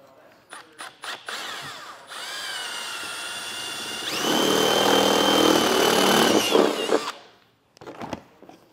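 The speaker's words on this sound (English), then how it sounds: "So I'll go ahead and get that drilled out." A power drill bores a hole in the wall of an enclosed trailer. A few short taps come first, then a loud, close, sustained whine whose pitch and load rise midway before it cuts off.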